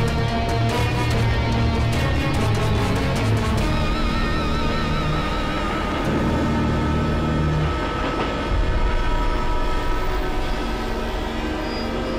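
A local train passing through an area of Mumbai, with loud continuous rumbling, rhythmic wheel clatter and a horn near the start, heard close up with no talking.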